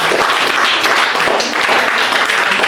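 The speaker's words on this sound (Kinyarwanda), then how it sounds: "amashyi menshi." A crowd of children and adults applauds loudly at a birthday celebration at UMUCYO School, a dense continuous wash of clapping that fills the room from start to finish.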